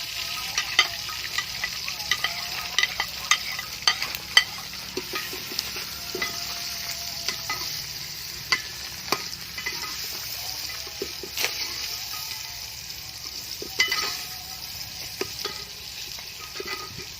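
Saag frying in ghee with chopped tomato, ginger and onion, a close, steady sizzle broken by frequent scrapes and clacks of stirring.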